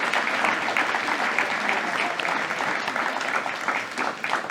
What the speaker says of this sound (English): We'll give them a quick round of applause and stand and be recognized.